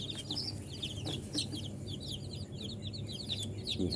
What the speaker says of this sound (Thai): อันนี้ก็จะเป็นลูกไก่บ้านนะครับ